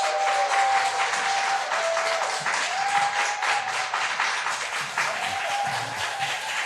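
A church congregation applauding a visiting missionary at a Wednesday service, dense sustained clapping from many hands, loud and close, with a faint tonal hum running beneath.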